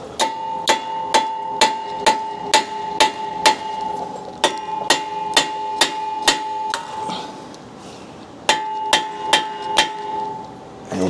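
Hammer blows ringing out against a stuck truck brake rotor, sharp metallic strikes in a fast steady series, then a brief pause and another quick run of hits, loud and close.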